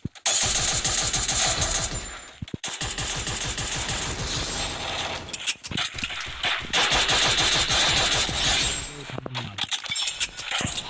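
Rapid bursts of video game gunfire, loud and dense, broken by a couple of brief pauses and continuing through most of the stretch with mechanical clatter mixed in.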